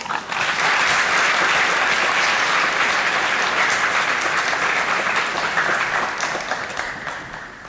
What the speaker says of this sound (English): give a round of applause to your parents